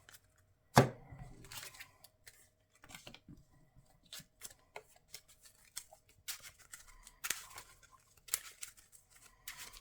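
Playing cards for Marvel Champions are shuffled by hand, a close papery riffle and a run of light flicking and tapping snaps, scattered and quiet, with no talk.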